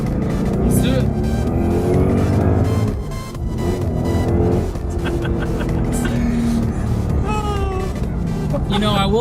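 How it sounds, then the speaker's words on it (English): A 2017 Ford Mustang GT accelerates hard in second gear, its V8 roar climbing steadily and loudly, with a brief dip partway through before the pull carries on, while someone talks over the engine. "How about another second gear pull? Let's do it."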